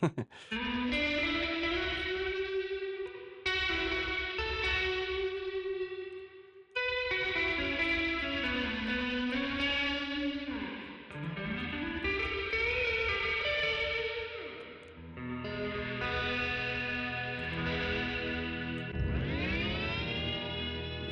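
An instrument played through a Dark Star Stereo ambient reverb pedal, cycling through presets: sustained washed-out tones with gliding, bending pitches, shimmering echoes and long reverb tails, loud and continuous with brief breaks between settings.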